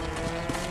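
Horse hooves clip-clop in a quick, steady run in the Red Dead Redemption video game, loud and close, with no one talking.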